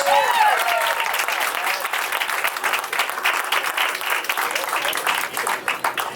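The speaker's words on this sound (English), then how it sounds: "How about a round of applause for Ron?" Loud, steady applause from a large crowd at a Tulsi Gabbard campaign event in Iowa fills the whole stretch, with a few brief cheers or voices rising in the first moment.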